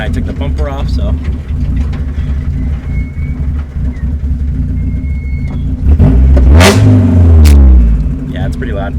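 A Mazda Miata with a straight-piped, center-exit exhaust rumbles loudly at idle, then revs hard in a rising, roaring burst near the end, with a bird chirping faintly in the background.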